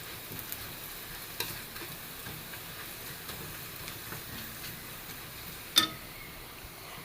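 Chopped onion fries in a pan for a pineapple or tomato rice dish, with a continuous soft sizzle and occasional stirring scrapes and one brief clink.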